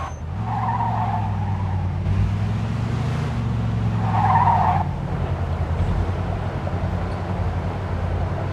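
A car in the video game Mafia II drives through a gate into a yard, its engine droning steadily and loudly, with brief tire squeals rising and falling over the rumble.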